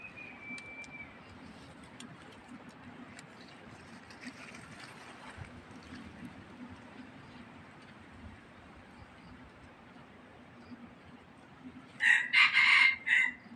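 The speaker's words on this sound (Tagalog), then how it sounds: "Lapit natin sa manok." A rooster crows near the end, a loud burst after a long stretch of quiet low background noise.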